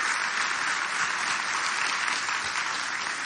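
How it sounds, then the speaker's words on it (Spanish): An audience applauds steadily and fairly loudly to welcome a pastor on stage at a church leadership event, a dense wash of clapping lasting a few seconds with no voices over it. "por favor recibamos con un fuerte y caluroso aplauso a Pastor Charles"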